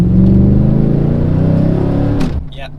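A Chevrolet Silverado truck with a 5.3L engine revs loudly up close through a rough 1-2 shift, with a sustained droning rumble that rises and then drops off abruptly near the end.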